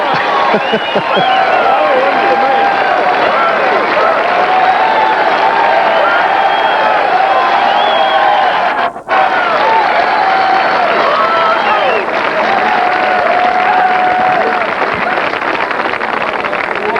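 A large golf gallery at a 1992 US Open round applauds and cheers for Gil Morgan, a dense sustained roar of clapping and voices with a commentator speaking over it.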